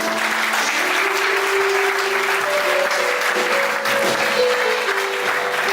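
A church congregation claps for Jesus during a service, with steady, dense applause throughout and a few sustained tones from music or voices underneath.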